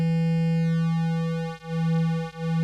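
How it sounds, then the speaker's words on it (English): A Korg Electribe 2 synthesizer plays a sustained buzzy tone, its second oscillator shifted in pitch with the edit knob, giving a steady harmonic drone with two brief dips where the sound cuts out, no voice present. "the edit knob will take the second oscillator and shift it either higher frequency or lower frequency"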